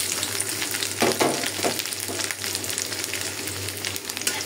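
Garlic fries in hot oil in a pan, a dense steady sizzle close by with a few louder bursts of crackling and stirring near the start.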